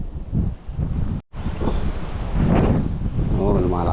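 Strong wind blows outdoors on a fishing outing, gusting against the microphone in a steady roar while someone speaks over it.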